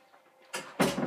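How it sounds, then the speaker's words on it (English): A door locks in the video game Elder Scrolls Oblivion, heard as two quick mechanical clunks of a latch and bolt, close and clear with no talk over it. "That was the sound of me locking him in the closet."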